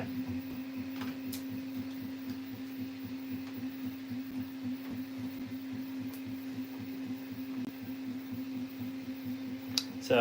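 A new $900 3D printer runs with a steady low mechanical hum and faint stepper whine, small ticks scattered through, holding level throughout with no talk.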